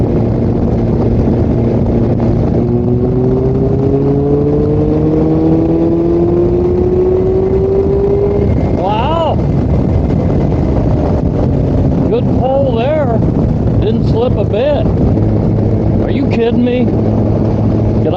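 A used Kawasaki Concours 14 motorcycle with a slipping clutch is being ridden; its engine drones under wind, rising steadily in pitch as it revs, with a voice speaking over the engine noise later on.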